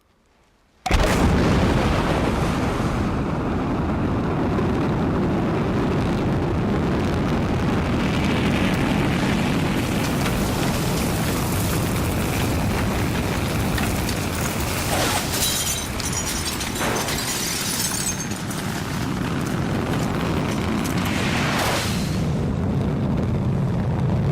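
A Proton rocket with 2.5 million pounds of thrust launches the Zarya module toward orbit, a massive roar that bursts in suddenly after a moment of quiet and rumbles on, loud and continuous, with crackling surges.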